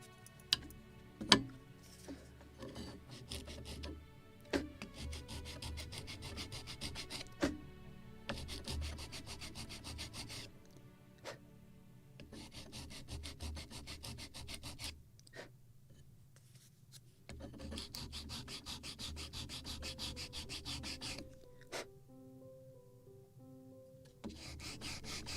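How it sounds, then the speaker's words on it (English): Sandpaper rubs back and forth over small wooden seat pieces from a model gunboat kit, a soft, close scratching in long strokes broken by short pauses and faint ticks. "More sanding."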